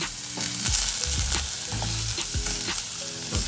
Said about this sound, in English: onions and garlic into the pan. Careful because it spits a bit